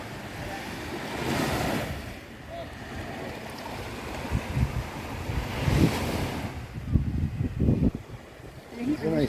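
Waves on a beach at Kalamaki, Greece, rolling in as a broad wash of surf with wind buffeting the microphone. Two larger swells build and fade, and people talk over the surf near the end.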